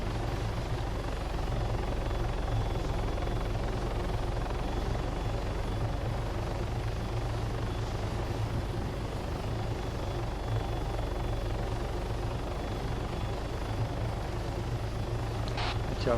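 Helicopter flying in the video game Arma 3, a steady, continuous rotor and engine drone that stays at an even, moderate level throughout with no talking.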